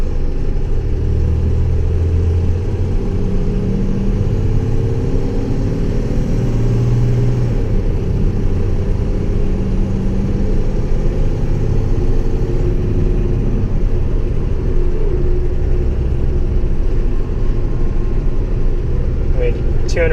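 A Cummins engine of about 220 horsepower drives an International Durastar truck, giving a steady loud low rumble that runs through the whole stretch, with the engine note rising slightly at times.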